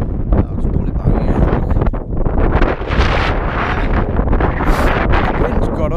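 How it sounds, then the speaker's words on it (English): Strong gusts batter the microphone at a hillside wild campsite near Helm Crag in the Lake District, a loud continuous roar of buffeting wind noise with surging bursts and no pauses. "The wind's got up, so I kind of put the tent up."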